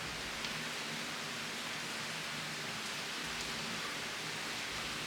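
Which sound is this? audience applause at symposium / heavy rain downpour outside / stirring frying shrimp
heavy rain downpour outside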